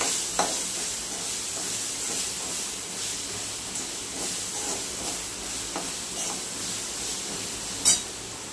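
Capsicum (shimla mirchi) sautés in a pan with a soft, even hiss of frying, punctuated by occasional light spatula scrapes and one sharper clatter near the end; no one speaks.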